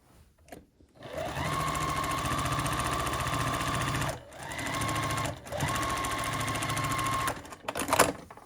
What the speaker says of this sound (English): sew the 2 final seams together